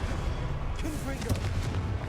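A Confringo blasting spell explodes in Hogwarts Legacy, a booming blast over continuous low rumble of combat, with a voice shouting during it.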